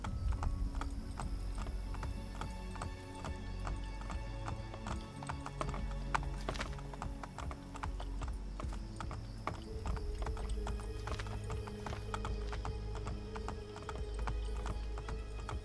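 Hooves clatter in a fast, rhythmic gallop as a horse is ridden in the game Assassin's Creed Brotherhood, with a neigh, mechanical clicks and a music bed layered throughout.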